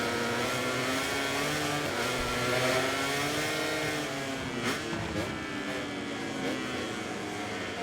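Racing motorcycles in the MotoGP 24 video game whine and rev continuously, with layered engine tones rising and falling as bikes jostle during a race.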